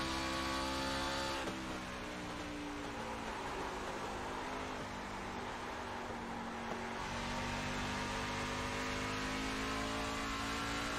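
Race car engine in an iRacing online oval race, a loud, steady high-pitched drone held near full throttle with a brief drop and gear-shift change early on, close and continuous, with no talking.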